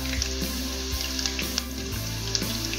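Curry leaves and dried red chillies fry in oil for upma, giving a steady, close sizzle with light crackles and occasional soft knocks from the pan.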